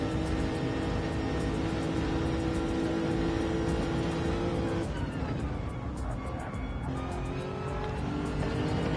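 Lexus race car on an onboard lap at Monza in a racing video game, approaching Ascari, with a sustained, loud engine drone and shifting pitch as it brakes and accelerates through the corner.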